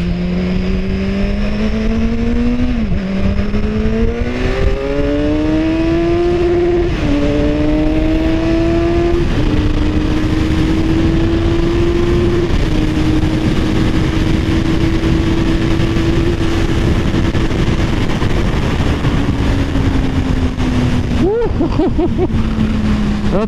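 Kawasaki Z1000 motorcycle engine pulls hard through several rising gears, each upshift dropping the pitch before it climbs again, then holds a loud steady cruise and eases off near the end, close and dominant over wind roar.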